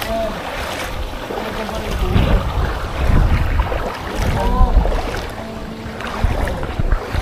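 A small boat's motor drones on floodwater among trees, with a rough, fairly loud engine rumble and water churning, plus wind buffeting the microphone.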